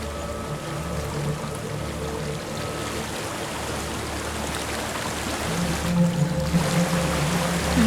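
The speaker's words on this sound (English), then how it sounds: "There's a waterfall." A waterfall in the video game Hellblade: Senua's Sacrifice, a constant rushing, pouring roar of water that swells slightly louder toward the end, with a low tonal drone underneath and no speech.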